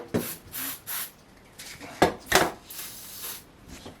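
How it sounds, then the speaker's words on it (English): WD-40 maintenance spray hisses onto a dripping tap in several short bursts, three quick sprays followed by a longer pair, close and crisp against a quiet room. "It's best to really spray WD-40, some sort of, I think they call this maintenance spray."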